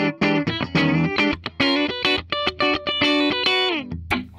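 A 2007 Gibson Les Paul 25 electric guitar on its middle pickup setting drives an amp into overdrive, ringing out a sequence of sustained, harmonically rich chords and notes with short gaps between them, loud and close with no voices.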